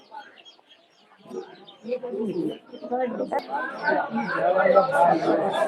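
Pigeons cooing at a busy outdoor pigeon and bird market in Savar, soft repeated coos among other bird calls, mixed with crowd chatter and people talking nearby.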